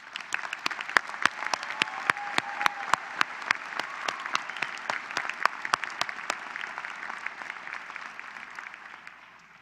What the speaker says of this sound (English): Please join me in a round of applause for the graduates today.